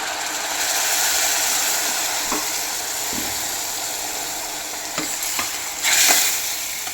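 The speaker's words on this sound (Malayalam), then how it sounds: "ഇനി ഞാൻ ഇതിലേക്ക് കുറച്ച് നമ്മുടെ വിനാഗിരി ചേർക്കുവാണ്." Vinegar hits pickle powder in a hot pan for rambutan pickle, setting off a steady loud sizzle and hiss, with a few scraping stirs and a brief surge of frying near the end.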